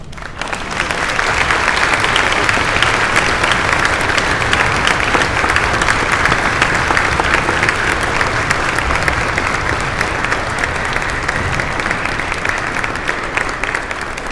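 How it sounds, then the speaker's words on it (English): A school audience at a middle school Veterans Day celebration gives veterans sustained, dense applause, steady and loud from start to finish without a break. "please stand so that we can take a moment to show our appreciation with a round of applause"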